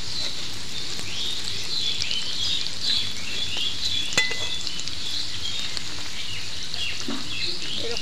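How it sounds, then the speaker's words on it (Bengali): Egg snacks deep-fry in oil over a low flame, giving a steady, even crackling sizzle with scattered pops and an occasional light clink of a utensil. "বন্ধুরা এটা ভাজার সময় একটু আঁচটা কম দিয়ে ভাজবেন, তাহলে অনেক মুচমুচে হবে"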